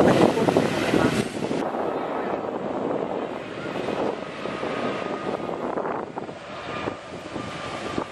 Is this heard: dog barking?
no